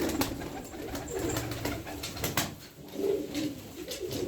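Several pigeons coo softly in a low, repeating rhythm, with occasional wing flaps and small rustles nearby.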